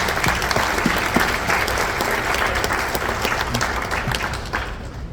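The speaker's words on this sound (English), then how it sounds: "Let's give our parents and families a round of applause." A crowd applauds parents and families at a National Honor Society induction ceremony, with sustained, fairly loud clapping from many hands that tapers slightly at the end.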